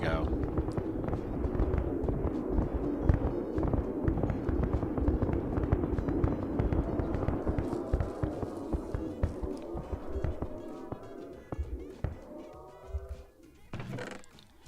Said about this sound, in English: Sounds like fireworks.